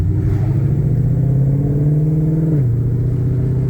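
A Ford GT500's engine drones steadily and close while the car accelerates, its pitch climbing and then dropping briefly near the end as if shifting gears.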